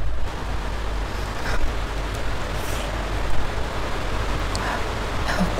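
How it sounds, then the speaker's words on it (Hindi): Rain sets in as a steady, even hiss close by, with a few scattered drop ticks on top and no voices. "ओ बारिश दे दिया।"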